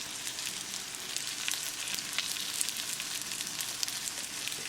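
Atlantic salmon pan-frying on a low gas flame gives a soft, continuous crackling sizzle, close and fairly quiet, with no talking.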